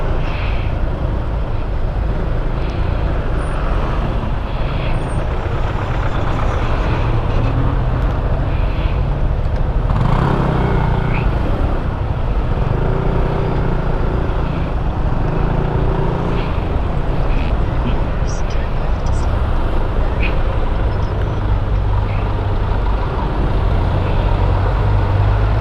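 Dense city traffic in Baguio City, Philippines, heard from a Honda PCX150 scooter in 2022: a continuous, loud rumble of car, truck and bus engines that never lets up, with no clear voices.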